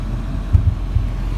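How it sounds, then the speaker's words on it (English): A car's damaged steering and suspension after hitting a pothole, with a twisted wishbone that has come off, gives three dull, low knocks over a steady idling rumble. "So I'll try and let you hear the steering."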